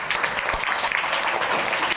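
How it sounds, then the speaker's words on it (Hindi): Audience clapping at a farewell ceremony, a steady dense patter of many hands sustained throughout at moderate loudness. "आप लोग ताली बजा दो मेरी"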